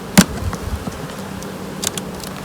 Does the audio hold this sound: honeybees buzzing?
yes